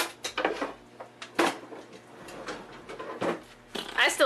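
Metal kitchen utensils clatter and clink in bursts as someone rummages through a drawer for a whisk, with scattered knocks and a busier jangle toward the end.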